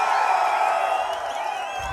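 A large crowd at a political rally in Tenkasi cheers and roars in a steady, loud, dense wash of voices, with no individual talk standing out.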